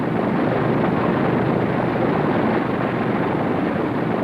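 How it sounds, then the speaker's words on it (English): A World War II bomber taxis on a Tinian airfield, a steady broadband engine roar with no breaks, loud and close for the whole stretch. "the plane taxis to its hard stand"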